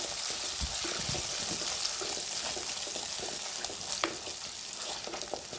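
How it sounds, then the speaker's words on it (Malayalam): Anchovy chilli curry being stirred in a pan, a steady close sizzle and frying hiss with soft scraping strokes throughout, no talk. "ഇനി നമുക്കിതൊന്ന് നന്നായി ഒന്ന് ഇളക്കിയെടുക്കാം"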